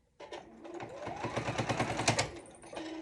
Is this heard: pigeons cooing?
no